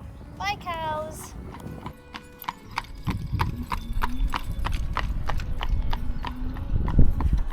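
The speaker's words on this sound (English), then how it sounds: "you have to check out this like tiny, tiny miniature horse" Small miniature horse hooves clip-clop on a farm road in Amish country farmland, a steady run of hoofbeats with a whinny early on, under background voices.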